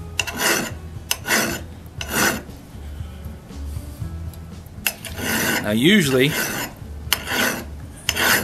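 Repeated rasping strokes of a file sharpening a steel auger bit, in uneven bursts, with someone speaking briefly over part of it.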